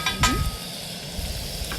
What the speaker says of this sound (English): And here it's sizzling already.